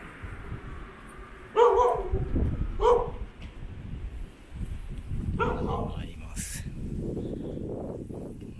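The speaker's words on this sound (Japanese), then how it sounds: "犬がいました。" A dog barks on a walk near Otsuki Station, giving two sharp barks close together in the middle distance, then fainter yips later, over outdoor ambience and footsteps, with no talk.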